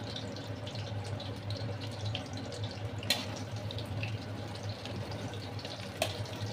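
Tap water runs steadily into a kitchen sink while a metal spatula is rinsed, a faint continuous trickle with two brief clinks of the utensil.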